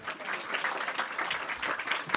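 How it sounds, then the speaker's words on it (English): Applause from the audience at a health financing conference session, steady moderate clapping with a distant hall feel. "please give them a big round of applause"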